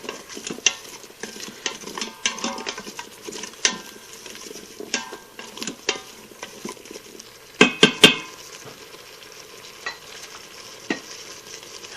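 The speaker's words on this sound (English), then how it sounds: "Stir that to coat it." Minced garlic stirred to coat camel meat in a pan, irregular utensil clanks and scrapes against metal over a light sizzle, with a sharp burst of louder knocks partway through.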